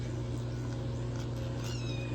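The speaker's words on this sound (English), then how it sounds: "Y'all may hear my little kitty cat in the background." A cat meows faintly, a short rising call near the end, over a steady low hum in the room.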